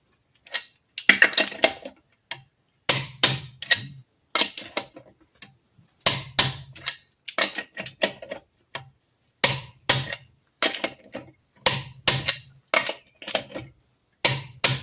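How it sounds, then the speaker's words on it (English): A torque wrench tightening the wheel lug nuts on a 1998 Ram 1500 set to 110, with loud, close, sharp ratcheting clicks in rhythmic bursts separated by short pauses, and no talking. "I can go ahead and start torquing this down."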